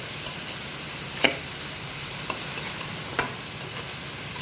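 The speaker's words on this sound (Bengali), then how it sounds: "শুটকি, পেঁয়াজ, মরিচ একসাথে তেলে ভাজে নেবেন।" Dried fish, onion and chili stirred and fried in oil, a continuous sizzling hiss broken by a few sharp clicks of a utensil against the pan, close, no talk.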